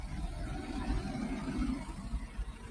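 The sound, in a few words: noisy old truck driving past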